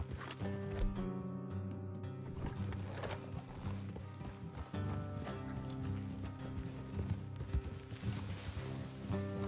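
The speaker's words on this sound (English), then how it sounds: "Let's leave the horses here and go the rest on foot." Horses in the Red Dead Redemption 2 video game clip-clop along an off-road trail, with steady hoofbeats and a possible whinny over soft game music, all heard faintly.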